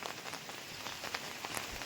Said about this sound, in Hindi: बारिश भी बहुत हो रहा है, देख पा रहे होंगे